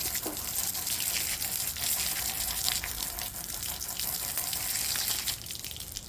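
Peaches are rinsed under running tap water, a steady close gush and splash that continues without a break.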